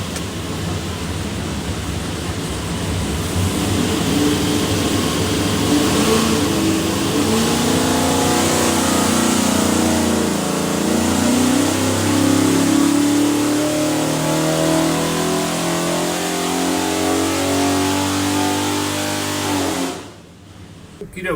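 A 585 hp 489 ci big-block Chevy marine engine built for a twin-engine cigarette boat, roaring loud on a dyno run, revving up steadily in pitch for about twenty seconds before cutting off abruptly near the end.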